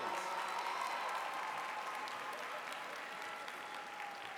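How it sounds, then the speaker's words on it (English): Audience applause at a high school graduation ceremony, a steady, dense wash of many hands clapping that holds at an even level throughout. "Let's give these young people a great round of applause."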